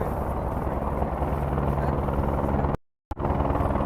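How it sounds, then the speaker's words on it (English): A helicopter coming in to land by the river in New York City, a loud near rotor drone with a fast chop that cuts off abruptly for a moment before resuming. "Ooh, helicopter's landing. Let's look at the helicopter land."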